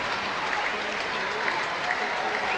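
A crowd at the 1991 basketball grand final between the Hobart Islanders and Melbourne East Spectres applauds in a dense, continuous wash of clapping and cheering, with a commentator talking over it.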